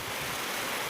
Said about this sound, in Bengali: খুব জোরে ঝোড়ো হাওয়া ও প্রচণ্ড রূপে বৃষ্টি আরম্ভ হয়ে গিয়েছে